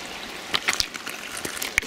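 A small waterfall spilling from a rock face at a gold-hunting spot, a steady close trickling wash broken by light splashes and drips, with no talk over it.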